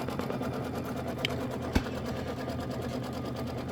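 A sewing machine runs in a steady, fast, even whir while stitching quilting on a small popsicle and rocket block mini quilt, close up with one faint click partway through.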